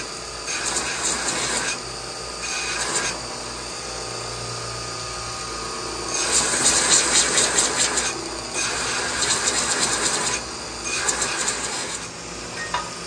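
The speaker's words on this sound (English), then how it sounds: "we've reconfigured this belt sander with a 2x48 belt, and he's got a 40 grit on there" Metal being ground on a belt sander fitted with a 2x48, 40 grit belt, harsh rasping bursts that come and go in several passes over a steady motor hum.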